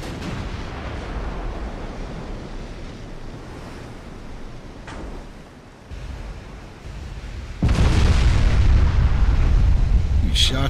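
Naval artillery fires in the video game Ultimate Admiral: Dreadnoughts over a steady wash of ocean surf and wind. The shots are muffled booms, and a louder roaring burst starts partway through.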